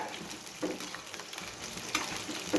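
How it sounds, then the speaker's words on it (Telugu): Brinjal curry fries hard over high heat in a pan, a steady crackling sizzle throughout with a few louder stirring bursts, close and moderately loud. "హైలోనే వేయించుకోవాలి"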